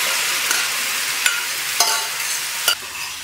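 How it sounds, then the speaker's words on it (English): Chopped onion, broccoli and cauliflower sautéing in oil and butter give a steady, loud sizzle at close range, with a few sharp utensil scrapes on top and no talk. "I saute them for 3 to 4 minutes time, and you can see the change in color."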